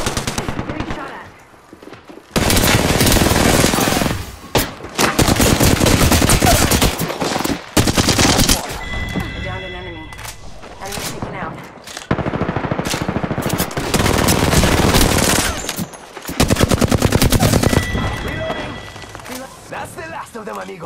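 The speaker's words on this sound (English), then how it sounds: "Getting shot at" Heavy automatic gunfire in a video game, long loud bursts of rapid machine-gun shots broken by short pauses, with a player talking over parts of it.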